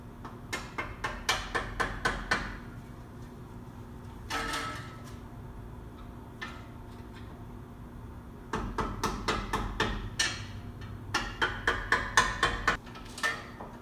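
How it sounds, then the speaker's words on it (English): Metal tapping on a seized ABS sensor on a BMW E36 as it is worked back and forth to loosen it. Rapid bursts of close, sharp taps come in clusters, separated by a few scrapes and pauses. "tap it back and forth so that it kind of gets loose because it's seized in there usually"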